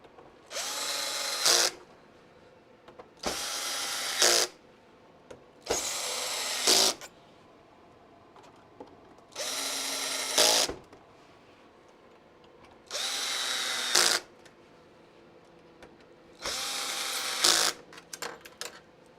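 A power drill driving leg bolts into a vintage Nintendo console during repair, running in six separate loud bursts of about one to two seconds each, with short quiet gaps between them.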